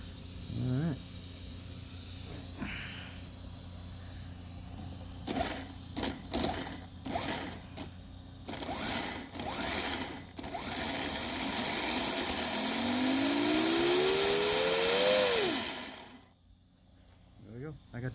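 A Flyhal F18 RC car, built for 100 mph, is switched on, giving a few short mechanical bursts, then a loud steady electric motor whine that rises in pitch and cuts off, with someone speaking around it.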